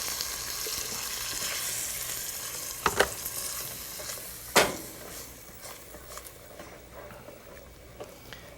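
Chickpeas in a coconut yogurt sauce bubble and sizzle over a high flame as a soft, steady cooking hiss, with a couple of sharp utensil knocks partway through.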